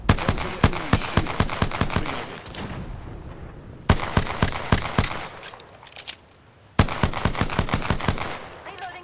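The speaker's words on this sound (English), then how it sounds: "Firing a smart bullet." Rapid bursts of smart bullet gunfire from a weapon in the video game Apex Legends, three loud runs of sharp repeated shots with brief pauses between them, up close and dominating the mix.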